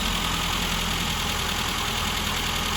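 Classic Mini engine idling after a restart, a steady, even hum with a faint low throb, heard at moderate distance under broad background hiss.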